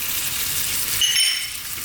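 Potato curry with tomato and fresh chili sizzling and being stirred in a pan, a steady close frying hiss with a few faint scraping touches.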